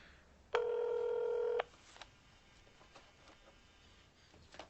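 A telephone keypad sounds one steady tone lasting about a second, followed by faint clicks and soft handling noises in a quiet room as a call is placed.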